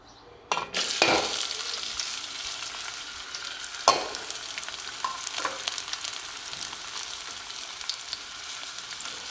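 Finely chopped medium onion fries in hot oil, a bright, steady sizzle that flares loudly as the pieces drop in, followed by a few scraping stirs and a continuous crackle with no talk.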